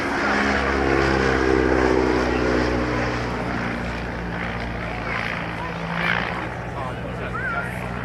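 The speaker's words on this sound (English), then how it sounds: "He's flying an aircraft" A propeller aircraft flies at an air show, a loud, steady engine drone close by with its pitch wavering as it manoeuvres, someone commentating over it.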